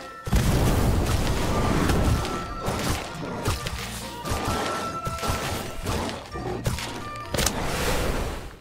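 Fiery spell blasts from the Incendio charm in Harry Potter Magic Awakened, a dense run of booming, crackling bursts and thuds layered over game music, loud and continuous with a few short dips.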